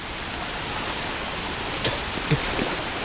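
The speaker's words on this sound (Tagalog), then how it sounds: "Believe ako sa ulan na to." Steady broadband hiss of heavy rain pouring down during flooding, with a couple of brief louder splashes or knocks near the end.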